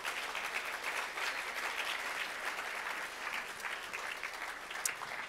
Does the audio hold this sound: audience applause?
yes